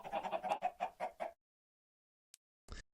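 Minecraft chickens cluck in a quick run of about seven short, close clucks. After a pause of near silence come two brief faint blips.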